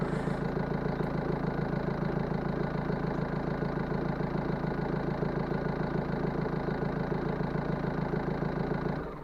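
A diesel Vauxhall Vivaro / Renault Trafic / Nissan Primastar van idles close by after a fuel system purge, an even, throbbing low clatter that holds steady throughout and fades slightly at the end.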